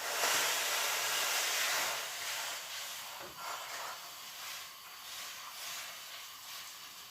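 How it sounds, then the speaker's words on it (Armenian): Water is poured into a cooking pot holding turkey wings, chili and bay leaves for khashlama, giving a soft, continuous hissing rush that eases slightly after the first couple of seconds, with no voices. "դե հիմա ջուրը լցնեմ"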